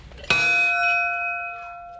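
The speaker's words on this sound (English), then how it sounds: "I think you have to ring we have to ring this bell" A single bell is struck once and rings out with a clear, sustained metallic tone that slowly fades, close and fairly loud.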